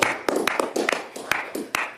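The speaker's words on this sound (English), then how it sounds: "you deserve a huge round of applause for everything" Applause at a Senate Finance Committee meeting, a small group clapping in an uneven, loose rhythm of sharp, close claps, with some faint voices underneath.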